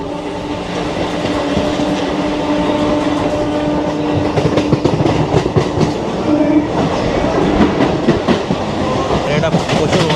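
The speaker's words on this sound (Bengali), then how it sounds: "বেলুড় স্টেশন থেকে ছেড়ে দিয়েছে ট্রেন আমাদের" A local train running after leaving Belur station, loud rhythmic clickety-clack of wheels over rail joints with a rumbling carriage interior and murmuring passengers in the background.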